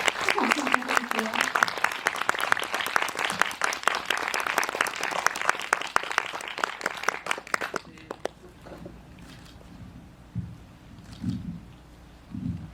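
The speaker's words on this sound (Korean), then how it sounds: "박수 부탁드릴게요" Audience applause at a film festival special talk, steady dense clapping for nearly eight seconds that then breaks off, followed by quieter room sounds, a few scattered noises and a voice speaking.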